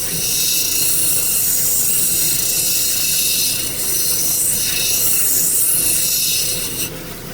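A creek stone cabochon is rocked back and forth against a sanding edge, a continuous close rasping and rubbing with a slight swell and dip in intensity, ending in a brief scrape.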